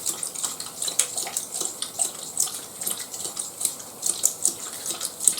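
Tap water runs steadily as a drinking bowl is filled for a black Labrador on a hot day, a continuous hissing splash with small irregular surges, fairly close and heard alone.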